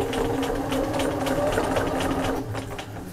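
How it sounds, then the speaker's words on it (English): Sewing machine stitching a quilted shopper bag a quarter inch from the seam line, a steady close, loud mechanical whir and rapid needle chatter that eases off near the end. "I'm going to stitch a quarter of an inch away"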